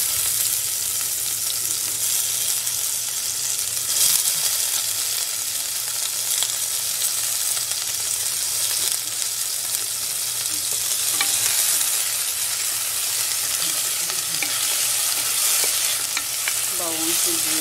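Garlic, onion and tomato sauté in a hot pan with a steady, close sizzle and the intermittent scrape of stirring throughout, with no talking.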